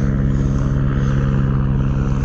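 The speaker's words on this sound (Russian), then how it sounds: "С утра у нас тут вертолетики вода летают." Orange emergency-service helicopters flying low over a beach at Anapa in the morning, with a loud, steady rotor and engine drone that holds evenly throughout, with no talk over it.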